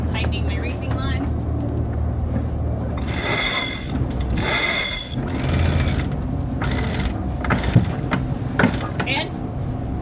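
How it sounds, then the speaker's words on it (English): Reefing lines being tightened on a sailboat at sea in 21 knots of wind: repeated rasping winch and line sounds in bursts over steady wind and water noise, with a person talking now and then. "tightening my reefing lines"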